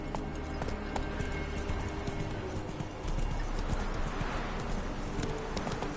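Horse hooves gallop steadily in The Witcher 3 on PS4 Pro, a dense, continuous clip-clop that holds loud throughout with a slight swell past the midpoint.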